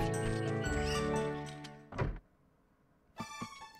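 A pony in a Legend of Zelda game whinnies in a bright, tonal neigh, followed by a short thunk and another brief burst of game sound.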